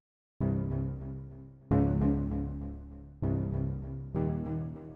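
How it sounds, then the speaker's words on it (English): Four plucked string notes ring out one after another, each with a sharp attack and a slow decaying tail, clear and close. "I use these really interesting Viking plucks, which sound like this."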